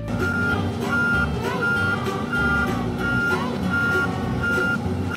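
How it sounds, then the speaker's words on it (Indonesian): A toy container truck emits a steady series of electronic reversing beeps at an even rhythm, loud and close, over a constant background hum. "Wow, di sini ada mobil pengangkut kontainer"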